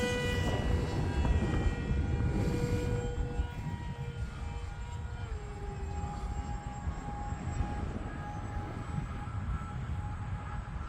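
A HobbyZone Aeroscout RC airplane flies in gusty wind, its electric motor giving a steady droning whine with shifting pitch over constant rushing wind noise, fairly loud throughout.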